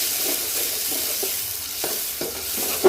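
Steady hiss of tomatoes sizzling in hot oil with frying onions, broken by scraping stirs of a utensil in the pan.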